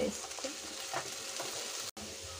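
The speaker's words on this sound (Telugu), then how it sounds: "ఇవి కొంచెం ఫ్రై అయిన తర్వాత సాల్ట్ వేసుకోవాలి" Potatoes frying and being stirred in a pan for a potato curry: steady close sizzling with scraping stir strokes throughout, one brief cut near the end.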